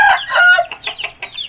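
An aseel rooster crowing loudly and close, one full crow that starts strong and then breaks into a few shorter trailing notes, with no other sound around it.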